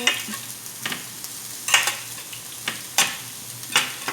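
A homemade hamburger patty frying in a pan gives a steady close sizzle. Sharp scraping strokes from a spatula or stirring break through it at irregular intervals of about a second, with no talking.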